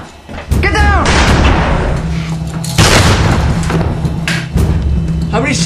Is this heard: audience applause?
no